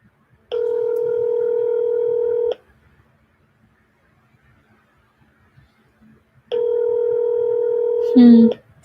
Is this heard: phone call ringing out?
yes